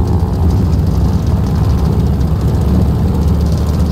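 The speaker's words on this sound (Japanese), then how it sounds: "エンジンテストを。" Aircraft engine running during an engine test in a naval aviation video game set at Midway, a loud, steady low rumbling drone that holds without a break.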